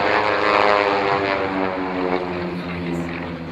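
A 1940-designed propeller aeroplane flies overhead at the Lowestoft air show, its engine drone loud and steady throughout with a rippling tonal hum and slight swell, no talk over it.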